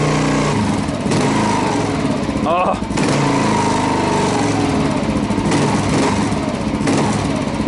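A Kawasaki KLR motorcycle fitted with a Lex aftermarket exhaust runs with a throaty, buzzing engine note that rises in a rev and then settles, loud and close, with someone speaking briefly.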